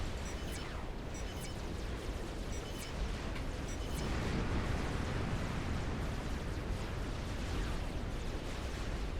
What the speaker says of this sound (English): The side island is under pressure from aircraft carrier missiles and Nothers.